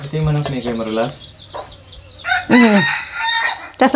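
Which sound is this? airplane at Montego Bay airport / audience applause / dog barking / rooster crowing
rooster crowing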